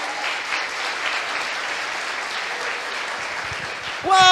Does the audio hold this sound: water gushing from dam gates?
no